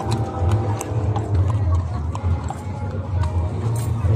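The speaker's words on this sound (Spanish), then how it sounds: "los caballos no van a querer pasar por aquí" Horses' hooves clop irregularly on a street during a pilgrimage procession for the Virgin in Fresnillo, mixed into steady crowd noise and nearby voices.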